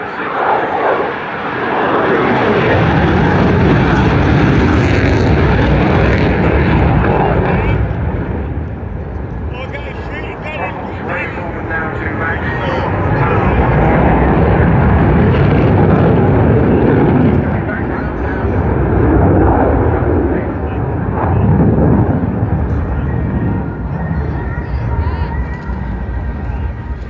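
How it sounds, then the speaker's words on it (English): A jet aircraft engine winds up at an airshow, a loud, sustained roar that swells and holds over nearly half a minute, with broadband rumble rising and easing in waves. "Now really winding the jet up, getting it up to the max speed possible."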